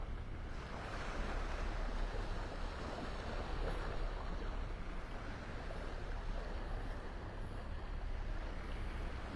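Surf rolls onto a beach in North Naples, Florida in a steady, soft low wash, with faint wind rumbling on the microphone and no voices.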